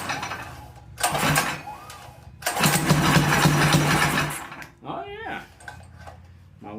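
A Predator small engine fitted to a hot rod fires up for the first time. A short burst is followed by a longer, loud rough run that cuts out. A voice speaks briefly before a low idle-like rumble.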